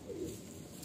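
A Madrasi pigeon, held in hand at a Kolkata loft sale, gives a short, soft, low coo that sits faintly against a quiet room.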